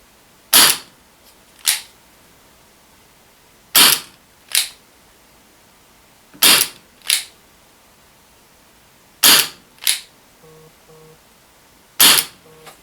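An Umarex Elite Force H8R CO2 revolver firing 0.2 gram BBs on a fresh CO2 bulb: five pairs of sharp, loud pops, each shot followed by a quick impact crack, spaced evenly several seconds apart.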